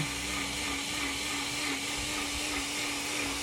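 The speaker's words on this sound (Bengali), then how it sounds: "এগুলোকে আমি ভালো করে ব্লেন্ড করে নেব" A blender whirs through fenugreek leaves, sour homegrown tomatoes and three green chilies, a steady, loud motor drone with a whining hum that stays even throughout.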